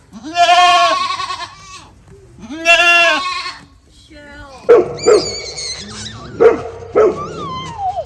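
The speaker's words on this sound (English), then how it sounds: "the goats are very loud because they are ready for dinner" Goats in a barn bleat loudly in two long wavering calls, followed by a burst of shorter, higher bleats and cries close by.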